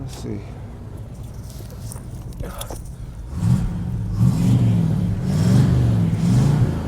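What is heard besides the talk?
car engine revving during cold start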